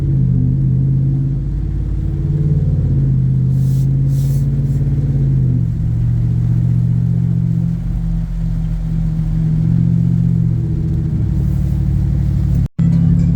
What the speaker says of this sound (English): There's like a little, you know, rev match going down.